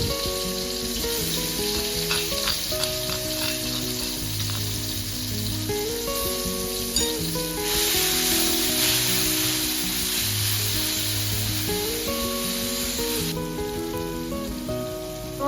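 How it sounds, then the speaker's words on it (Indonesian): Spice paste sizzles steadily in hot oil for a Sundanese stir-fry of genjer, a constant crackling hiss running under background music. "Tumis bumbu sampai wangi dan matang."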